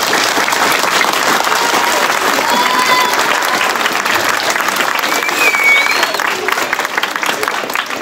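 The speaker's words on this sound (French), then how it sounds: "Je voudrais qu'on l'applaudisse bien fort." A school audience at a sports event with collegians and champions gives loud, sustained applause, dense clapping filling the whole stretch with a few faint voices and whistles in the crowd.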